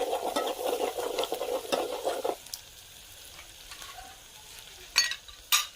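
Peanuts stirred while frying in a pan for a crab masala dish, a close sizzle with scraping spoon strokes for a couple of seconds, then quieter stretches broken by two sharp clinks of utensil on the pan.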